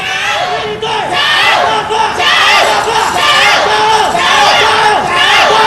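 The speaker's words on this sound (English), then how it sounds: "Some good Indonesian support there in the crowd." Crowd at the 2017 SEA Games wushu finals, including Indonesian supporters, cheers and shouts loudly and continuously throughout, with voices rising and falling in waves.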